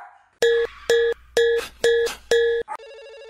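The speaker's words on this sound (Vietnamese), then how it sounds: "điện thoại tự nhiên reo anh em ạ" A phone ringing: five evenly spaced, loud electronic ring bursts with a bright, buzzy tone, then a short chirp and a steady beeping tone as the ringing stops.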